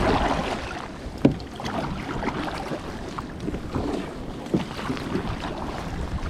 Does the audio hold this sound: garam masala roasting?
no